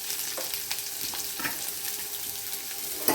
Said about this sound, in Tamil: சட்டி வச்சு கடுகு, அப்புறம் கடலைப்பருப்பு இதெல்லாம் போட்டு அப்புறம் வெங்காயம் கொட்டி